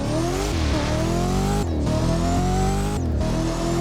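A GT500 engine in the Driving Empire game screams through repeated acceleration runs, its pitch climbing and then dropping sharply at two gear shifts, loud and continuous with no talking.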